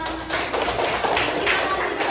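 Classroom students clapping together after a teacher's prompt, a dense, steady patter of many hands close by for a couple of seconds with faint voices mixed in.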